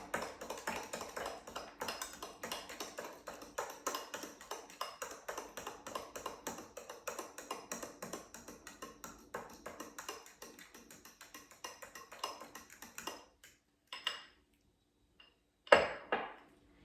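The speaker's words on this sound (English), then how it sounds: "and let's add 1 egg. And mix until combined." Egg being mixed into mashed banana for a coconut flour banana bread mug cake, rapid steady clinking of a utensil against a mug for about thirteen seconds, then a few scattered taps, close and fairly quiet.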